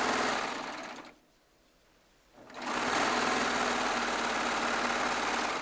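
A Baby Lock serger runs fast and loud while it trims thread tails from pieced jelly roll and charm square fabric, stops for about a second and a half, then whirs again at full speed.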